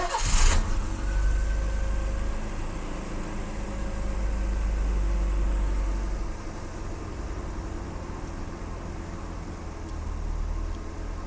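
A BMW E30's engine cranks and catches with a sharp burst, then settles into a low, steady idle that rises and dips slightly over several seconds after a repair to its idle control.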